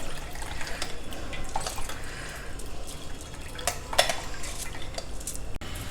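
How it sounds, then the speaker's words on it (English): Water drained from soaked basmati rice in a kitchen, splashing and trickling steadily with clinks of a metal pot or strainer, a louder clatter near the end. "Now we will drain out this rice. I will just drain out the water."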